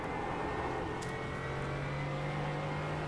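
A GT4 race car at Tsukuba in the iRacing sim holds a steady, loud engine drone throughout, with a sustained low tone and no clear shifts.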